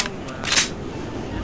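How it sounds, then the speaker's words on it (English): A quick mechanical gun-reload click sounds in Left 4 Dead, a short crisp snap over a steady hum of game noise. "Reloading!"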